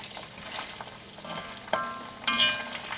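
Beef pieces frying in hot oil for chilli beef give a steady close sizzle, broken by two sharp metallic clinks of a utensil against the pan.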